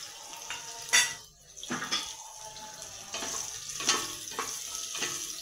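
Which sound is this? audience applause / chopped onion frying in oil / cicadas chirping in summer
chopped onion frying in oil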